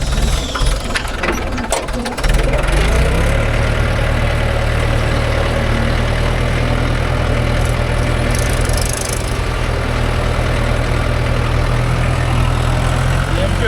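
A JCB 3DX backhoe works alongside Mahindra, Swaraj and Massey Ferguson tractors loading lake soil, their diesel engines running loud and close. Clattering knocks come early, then a heavy, steady rumble continues to the end.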